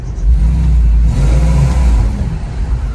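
A BMW X5 with a V8 engine revs hard up close, a loud sustained roar holding steady for several seconds before easing slightly, with no voices.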